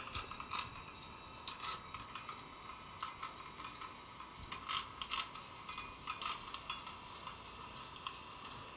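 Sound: engine-turning guilloche machine levers moving the cutter

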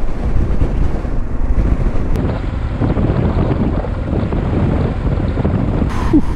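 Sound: strong wind gusts

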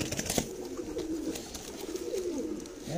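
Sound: pigeons cooing

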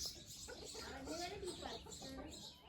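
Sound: hen clucking

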